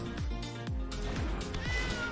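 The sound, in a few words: cat card meow in the video game MTG Arena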